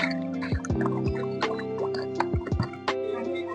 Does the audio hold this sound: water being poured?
yes